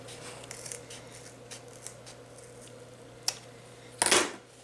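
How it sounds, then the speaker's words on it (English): Scissors snip through felt while a Christmas tree shape is trimmed across its bottom edge, a few sharp close clicks and cuts with a louder crunchy snip near the end over a quiet hum. "all you gotta do is take your scissors and trim across the bottom"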